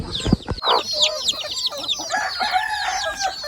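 Chickens and chicks cluck and cheep close by in a busy, overlapping chorus, with high peeping chirps running over lower clucks for the whole stretch.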